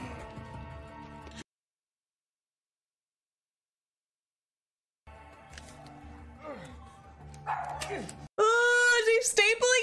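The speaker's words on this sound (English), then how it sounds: "There are a bunch of dogs in cages" Dogs in cages in a movie scene bark, yip and whimper in short bursts that grow busier toward the end, with a silent gap in the middle and other sound underneath.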